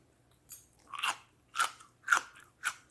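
Homemade sauerkraut is crunched close to the mic in about five distinct crisp bites spaced roughly half a second apart, each a sharp crackling snap in otherwise quiet surroundings.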